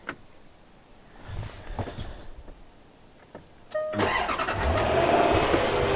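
A 2010 Land Rover LR4 turns over with a brief starter whir, then its engine catches and settles into a steady, close idle rumble with no talk.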